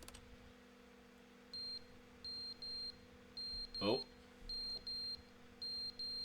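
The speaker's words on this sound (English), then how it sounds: "Is that the fire alarm?" Fire alarm in The Stanley Parable sounding in short, high repeated beep bursts in an irregular rhythm over a low steady hum, with a brief exclamation partway through.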